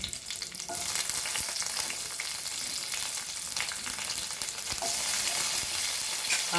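Garlic and chilies fry in hot oil with a dense, crackling sizzle that swells after the first second and stays loud, dotted with spitting pops and stirring.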